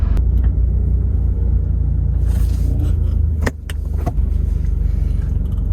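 A 2022 Subaru BRZ pulls hard in a roll race at a racing event, its engine a loud, continuous rumble close by, with a brief dip and a couple of sharp knocks partway through.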